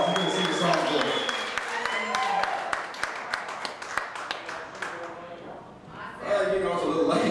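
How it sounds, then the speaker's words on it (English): Audience applause and cheering for a band member at a live country cover band show, a dense wash of clapping that dips briefly near the end and then swells again. "everybody give Mike, this is Mike Ferguson, a round of applause"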